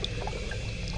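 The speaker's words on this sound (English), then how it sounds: "You reach your hand into the water, shift through thick, mucousy water." A hand reaches into a tub of thick, mucus-like water, making soft, close sloshing and gurgling with small wet splashes throughout.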